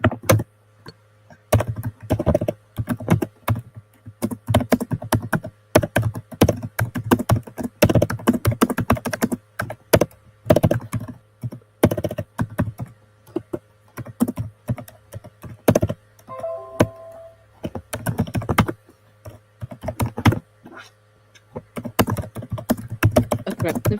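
Steady, rapid clacking of a computer keyboard, with close keystrokes coming in irregular bursts and brief pauses over a faint background hum.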